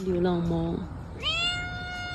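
A cat gives two meows, a lower drawn-out cry followed by a higher, rising one, close and fairly loud over a steady background noise.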